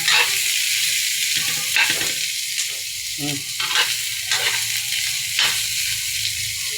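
Garlic, onion and ginger sauté in a hot pan with a steady, loud sizzle throughout. A utensil stirs and scrapes against the pan several times.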